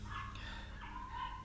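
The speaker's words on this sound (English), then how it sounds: "Okay, you probably hear dogs barking." Neighbors' dogs barking on a patio across the way, faint distant barks over a steady background hum, with no talk.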